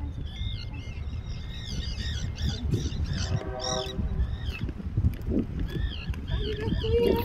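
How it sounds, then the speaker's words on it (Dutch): Gulls squawk and cry repeatedly over a noisy background of low rumble and distant chatter. "al die meeuwen"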